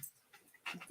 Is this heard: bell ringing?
no